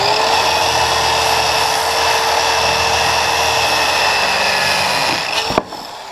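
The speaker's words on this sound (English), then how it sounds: "This is basically the biggest thing you're ever gonna cut with this one of these circular saws." A Harbor Freight circular saw rips through a thick 2x8 or 2x10 board, a loud, close, steady high whine for about five seconds that ends in a sharp snap as the cut finishes and the blade spins down.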